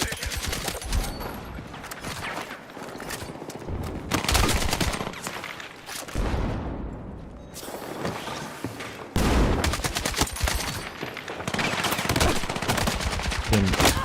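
Gunfire erupts throughout a Battlefield 6 match, with rapid automatic bursts, single shots and heavy impacts piling up in dense, loud volleys; a few short pauses break the fire, and faint voices come through now and then.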